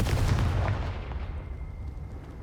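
A Confringo fire spell blasts in Hogwarts Legacy, landing as one heavy booming impact with a loud low rumble that fades over about two seconds.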